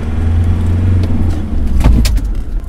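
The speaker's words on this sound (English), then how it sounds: "you saw there that the vehicle slid and we lost control, and now we've got ourselves stuck" A Land Rover braking too hard on fresh snow and sliding out of control, with a steady low engine hum and a brief scraping surge of tyres near the end, no voices.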